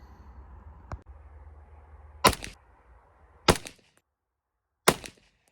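A Ruger LC carbine firing flat point bullets at an outdoor range: one faint pop, then three sharp, spaced shots about a second apart, each followed by a brief echoing tail over low wind noise.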